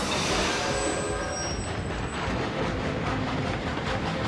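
Train rolling along in Skylanders: Trap Team on the Nightmare Express, a loud steady rumble with rattling and a thin high squeal, constant throughout.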